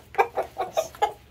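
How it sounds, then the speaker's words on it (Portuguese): A rooster and hens on a farm cluck in a series of five short, evenly spaced calls over about a second, close and clear with no talk. "Olha o galo chamando as galinhas aí, ó."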